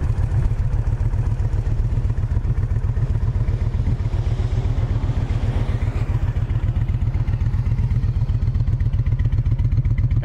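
A Kawasaki Nomad VN1600 motorcycle's liquid-cooled 1600cc engine idles close by with a steady, deep rhythmic rumble, loud and even throughout with no talk over it.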